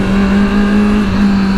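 Motorcycle engine revving hard during a wheelie on a street ride, a loud, close, sustained roar with a steady low drone and slight swells in pitch, wind rushing beneath it.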